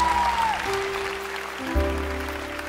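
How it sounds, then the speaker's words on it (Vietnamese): Studio audience applauding the Owl contestant on the Vietnamese Masked Singer, season 2, a steady patter of clapping under sustained stage music tones and a low swell near the end. "Vỗ tay nồng nhiệt cho Cú luôn đó"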